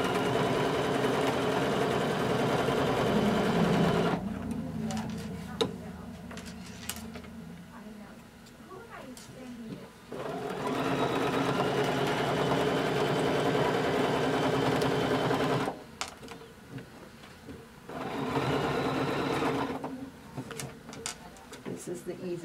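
A sewing machine stitches around a marked quilt square for a ruler-work block, running in steady buzzing bursts separated by short pauses, close and fairly loud, with talk over parts of it.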